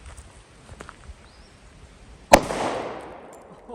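A single sharp gunshot from a .45 ACP 1911 pistol fired at a bowling ball, loud and sudden after a quiet stretch, with a short ringing echo trailing off.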